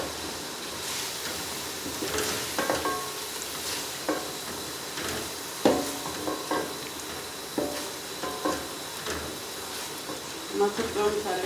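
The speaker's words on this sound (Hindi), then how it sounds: "अब इसमें मसर ऐड करते हैं जो मैंने भिगो कर रखे थे पहले।" Soaked masoor dal tossed into frying spices and stirred, with a low sizzle under repeated scraping and clattering strokes of the spoon against the pan.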